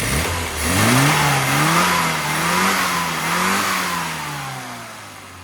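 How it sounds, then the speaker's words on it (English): Freshly tuned car engine, remapped for better running between 4,000 and 5,000 RPM and adjusted top-end fuelling, revs up and down in several loud, close swells with a strong, steady tone before easing off. "is a nice strong sounding engine."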